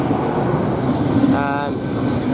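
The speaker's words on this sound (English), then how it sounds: "Now we've got a Great Western Railway coming through here" A Great Western Railway train passes through Didcot Parkway station as a steady, close rumble of rolling stock, with a brief tonal whine or squeal midway through the pass.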